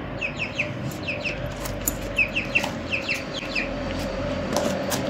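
High, quick peeping calls of a chick come in short bursts over a steady low hum, chirps repeating every second or so at moderate loudness.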